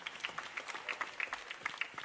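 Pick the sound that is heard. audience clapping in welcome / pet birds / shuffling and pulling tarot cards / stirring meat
audience clapping in welcome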